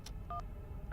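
Two short telephone keypad dialing tones beep in a quiet room, each a brief clear dual-tone blip separated by a pause, with a faint click at the start.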